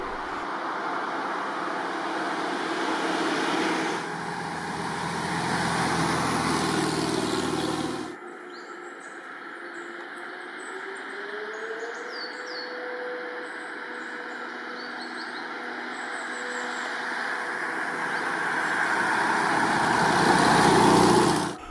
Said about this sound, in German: Im Heck des Lufthansa-Crewbusses arbeitet ein luftgekühlter 1493 Kubik Vierzylinder-Boxermotor mit einer Leistung von 42 PS.